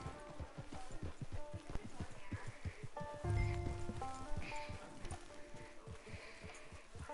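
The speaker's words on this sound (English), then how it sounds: "Get your horse." Horse hooves clip-clop in a steady, quick rhythm in the Red Dead Online video game, fairly close under a bed of game music and ambience, with the pace slowing toward the end.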